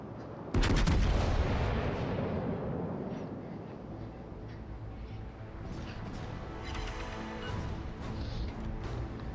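A Bourgogne battleship in World of Warships Legends fires its guns: one loud, sharp blast near the start, followed by a long rumbling decay and steady background game noise.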